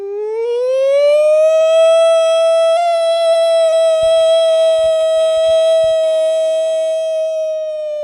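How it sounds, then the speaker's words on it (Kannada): A siren sounds at a temple festival, the Brahmakalashotsava at Sri Panchalingeshwara temple in Korinja. It rises into a loud, steady wail that holds for several seconds on its own, with a few faint knocks partway through. "ಸೈರನ್ ಮಲ್ಪುಣ"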